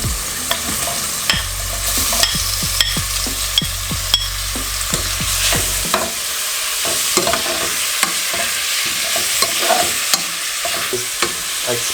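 Pork frying in oiled pan, a loud continuous sizzle close up with frequent scraping and clinking stir strokes throughout, plus a low hum during the first half.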